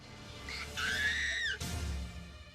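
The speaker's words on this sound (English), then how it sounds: "She screamed." A toddler screams at a beauty pageant, one long, high, strained cry that rises and then cuts off abruptly, loud and close with a noisy room behind it.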